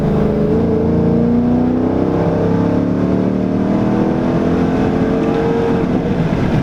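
A 2014 Dodge Charger R/T engine revs up and pulls hard through the gears, loud and close, its pitch climbing steadily with no voices.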